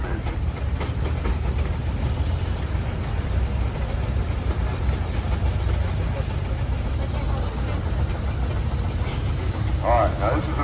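A steam engine runs at an outdoor threshing show, giving a continuous rumbling, chugging drone under faint crowd noise, steady throughout with a brief higher tone near the end.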